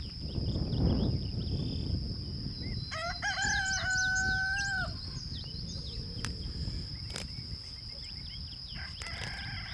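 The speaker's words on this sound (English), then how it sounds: "Now they're starting to make the distress tweet sound when they're looking for mom." High, thin distress tweets from chicks repeat in short bursts over a steady rural hum, with a rooster-like call and insects buzzing in the background.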